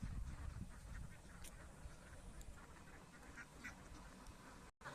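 Domestic native ducks on a duck farm in Rajshahi, a continuous low chorus of overlapping quacks from the flock at moderate distance, with no voices.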